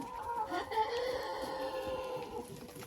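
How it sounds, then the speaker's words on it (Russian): A Frizzle rooster crows once in a long drawn-out call, fairly faint and at some distance, on a farm yard with turkeys and hens. "Слышали, кто это кукарекает? Это петушок Фризли."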